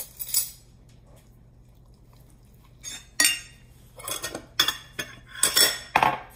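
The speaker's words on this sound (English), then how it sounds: "So we're gonna stir this up." A utensil clinking and scraping in a bowl as tuna mousse ingredients are mixed: quiet at first after a single clink, then a run of irregular close metallic stirring strokes and knocks.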